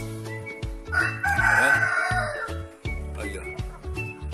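Young, large-growing chickens on a farm, with a rooster-style crow rising loud and drawn-out in the middle over a steady run of lower pulsing clucks. Someone speaks briefly near the end.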